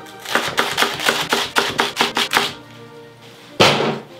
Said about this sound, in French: Cœur coupe 2, et on coupe en gros morceaux.